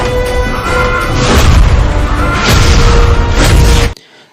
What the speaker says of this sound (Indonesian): Rudal sudah meluncur